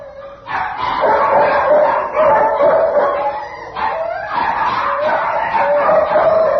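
Several dogs bark and yip continuously in an indoor kennel room where dogs are quartered, overlapping loud barks with brief whimpers, filling the space with no pauses.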